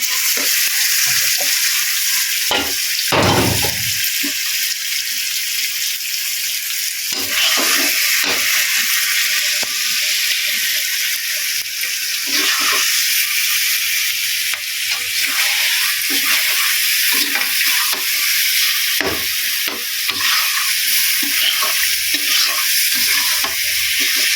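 Rooster meat browning in a hot pan, a continuous loud sizzle broken by repeated scraping and stirring knocks from a spatula, close up with no talking.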